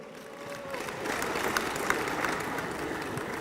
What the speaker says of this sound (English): Let's give her a round of applause